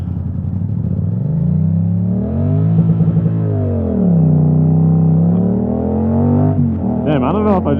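A 2020 Yamaha MT-07 motorcycle held in first gear with the clutch in revs up and down, engine pitch rising and falling in smooth sweeps near the rider, then a short rougher burst at the end.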